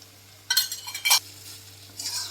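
Spoon scraping and stirring a mustard and poppy-seed pointed gourd curry in a pan, two short bursts of stirring with a faint sizzle, close and alone, then a softer scrape at the end.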